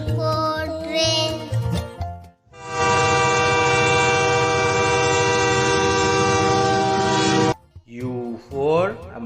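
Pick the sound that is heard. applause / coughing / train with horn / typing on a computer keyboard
train with horn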